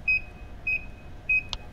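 Three short, clear electronic beeps from the video game Dead Man's Journey, evenly spaced about half a second apart, with a brief soft poof after the last one over a quiet background hum.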